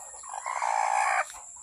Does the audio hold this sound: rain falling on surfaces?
no